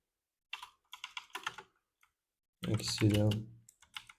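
Keys clatter on a computer keyboard as a command is typed to configure a MySQL database on a Linux server: quick bursts of close clicks, a short stretch of speech, then a few more taps.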